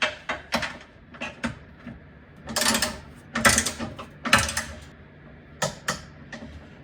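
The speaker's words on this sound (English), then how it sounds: "the two nuts here are to be torqued down to 15 foot-pounds" A torque wrench tightens two nuts on the transfer case of a 2024 Jeep Wrangler, giving close, sharp ratcheting clicks in short irregular bursts with brief pauses between them and no talking.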